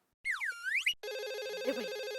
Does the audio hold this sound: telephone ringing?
yes